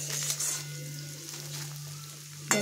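Fish roe coated in puffed rice powder frying in a pan, giving a continuous close hiss and sizzle with a low steady hum underneath and a brief sharper crackle at the end, no talking.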